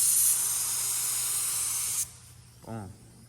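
A paint spray gun lays down a coat with a steady, loud broadband hiss for about two seconds, then cuts off abruptly, followed by a brief voice in the quieter tail.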